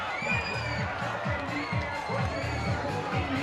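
A stadium crowd cheers and hollers at a minor-league baseball game between the Nashua Silver Knights and Torrington Titans at Holman Stadium, bottom of the 4th inning. The broad, steady roar is layered over a repeating low musical pulse.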